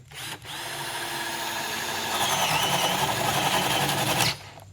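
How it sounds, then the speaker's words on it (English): A power drill bores a 1 inch hole through a red maple board, a brief whir followed by a loud, steady whine that rises slightly as the bit cuts, then stops abruptly. "drill the corners of this first board with 1 inch holes all the way through."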